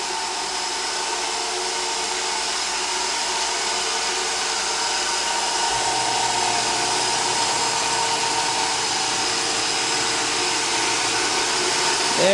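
Roomba robot vacuum cleaner running across a floor and onto carpet, a steady whirring motor hum with a low tone shifting partway through, fairly close and continuous, no talking.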